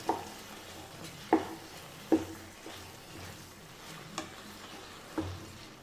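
Ettangadi being stirred with a couple of spoons of grated coconut in a pan: a few sharp scraping knocks spaced a second or so apart over a faint low sizzle, close and fairly quiet.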